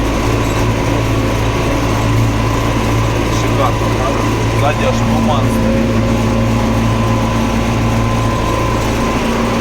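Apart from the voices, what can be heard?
tractor engine running with Amazone sprayer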